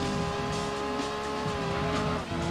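High-revving Honda VTEC car engine in the racing game Gran Turismo 2, a loud, steady, high-pitched whine with shifting pitch and tire squeal, continuous and alone.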